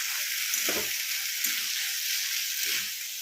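Masala for matar paneer with potatoes and peas fries in a pan, a constant hissing sizzle with three soft thuds of stirring spaced across a few seconds.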